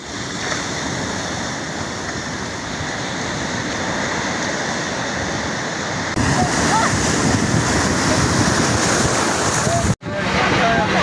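Loud, continuous roar of surf and rushing sea water at Cox's Bazar with wind buffeting the microphone, growing denser partway through, then briefly cutting out near the end.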